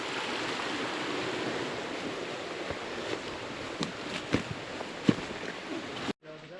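A brook near Cape Dauphin Falls flows with a continuous broadband rush, joined by a few sharp knocks and brief bumps, before the sound cuts off abruptly near the end.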